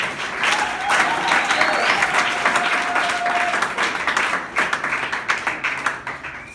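A church congregation breaks into sustained, loud applause during a French-language sermon, a dense wash of clapping that stays steady for several seconds and then thins into scattered claps near the end.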